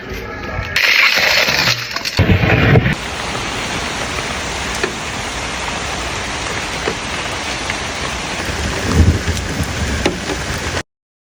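Steady rain falls throughout, a broadband hiss that stays constant from start to finish, with a few brief louder bursts near the beginning and a faint rumble later that may be distant thunder.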